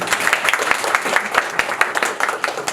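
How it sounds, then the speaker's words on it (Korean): A cinema audience at a Korean film Q&A for The Killers applauds, producing dense, continuous clapping from a seated crowd with a steady, even texture and occasional sharper individual claps throughout. "박수도 한번 부탁드립니다."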